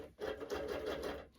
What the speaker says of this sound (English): I'm going to use a basting stitch.